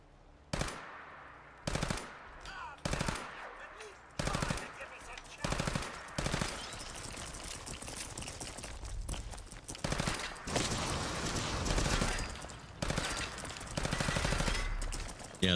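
Gunfire in Fallout 4 rings out as repeated sharp shots in irregular bursts over about fifteen seconds, loud and close, building toward sustained rapid fire near the end, with no voices.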